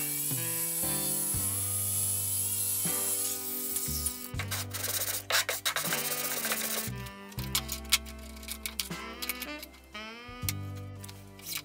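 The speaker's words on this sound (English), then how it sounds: "I'll cut backwards so I don't get any chips in the laminate." Table saw on a Craftsman contractor saw cutting laminate backwards on an outfeed bridge, a loud close whine with harsh rubbing and grinding bursts that stop and restart several times, no speech.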